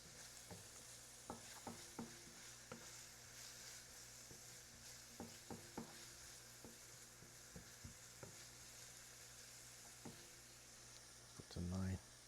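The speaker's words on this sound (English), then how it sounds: "Mixing." Food is being stirred in a pan while cooking a Venezuelan pabellón criollo, with repeated soft scrapes and taps over a faint steady sizzle, quiet and close, and a louder knock near the end.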